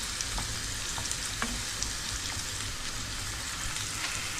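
Salt, panch phoron, onion and turmeric sauté in a pan for a simple bean fry, making a dense, even sizzle with faint scattered pops and stirring scrapes, heard alone without any talk.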